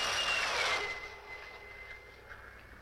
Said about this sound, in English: even to the piercing eye of radar and the speeding jet fighters.